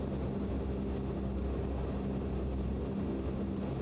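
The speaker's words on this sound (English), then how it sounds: "This is a great airplane." A BN2T Turbine Islander in MSFS 2020 drones steadily with a low, continuous turboprop engine hum and a faint high whine, unbroken and even throughout with no voices.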